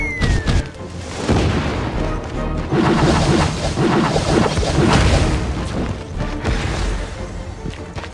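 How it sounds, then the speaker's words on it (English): Bombs going off in the LEGO Nexo Knights video game, a dense, loud run of booming crashes and smashes that carries on steadily for about eight seconds, with little break between blasts. "Bombs!"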